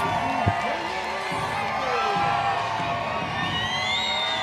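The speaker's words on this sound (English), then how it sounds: "And the crowd is hyped because they want some T-shirts." A steady, loud crowd roar fills an indoor basketball arena during a Toundra Montréal vs Rogues Terre-Neuve game, with scattered whoops and shouts rising through a continuous wash of noise.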